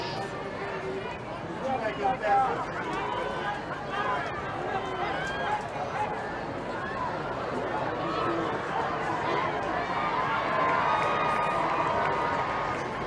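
Crowd cheering and chattering at a girls' rugby match, a steady murmur of many voices with scattered shouts and running footsteps, continuous and moderately distant.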